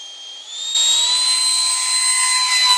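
A Hobbyking ViperJet RC model jet's turbine gives a loud, steady high-pitched whine. It rises sharply in intensity partway through and then holds a sustained roar.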